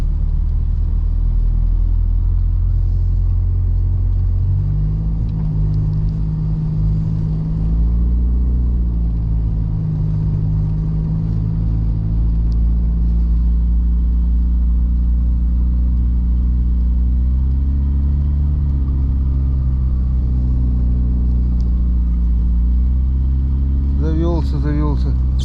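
A car engine starts and keeps running close by: a loud low rumble that rises and falls in pitch through mild revs for about twenty-five seconds, with voices heard at times.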